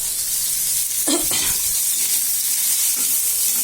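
Bottle gourd sautés in a hot pan, giving a steady, dense sizzle with a brief stirring scrape near the start, loud and close with no talking.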